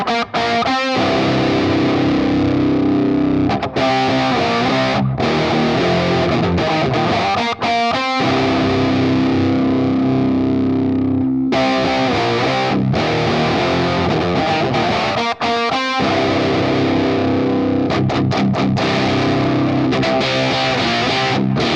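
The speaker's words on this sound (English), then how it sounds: "The sustain is now set to a sort of fuzzy distortion-esque kind of thing, where you can still hear what's going on, so that I can now sweep through the tone knob." A Zero Fret Black Russian RAT fuzz distortion pedal drones a thick, saturated guitar tone as the Big Muff-style tone knob is swept, the sustained notes and chords shifting in brightness over a long, continuous loud stretch.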